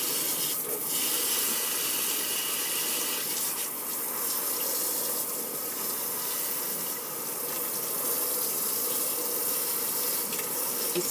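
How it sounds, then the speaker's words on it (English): Warm water sprayed from a sprayer into a makeup brush cleaner, giving a steady hissing spray with small surges and breaks and a watery splash underneath, close and fairly loud throughout. "I'm gonna spray the inside of this with warm water."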